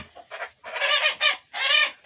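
Several roosters cluck and squawk in quick, agitated bursts close by, sounding like a noisy scuffle.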